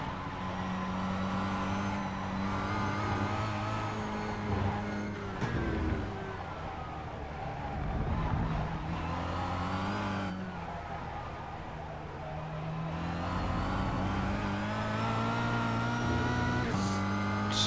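A Kia Cup race car laps the Interlagos circuit, its engine droning steadily from inside the cockpit with repeated shifts and brief dips as it brakes and accelerates through corners.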